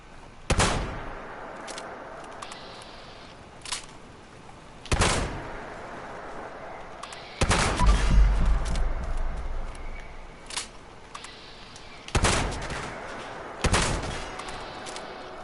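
Shotgun and rifle shots ring out in Fallout 76, a handful of loud separate reports spaced a few seconds apart, with one heavier boom rumbling deep in the middle, and no voices.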